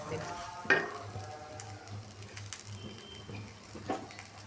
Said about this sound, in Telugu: పొడిగా వేయించుకుని కన్నా ఇలా ఇందులో వేయించుకుంటే ఈ మసాలాలు అన్నీ పడతాయి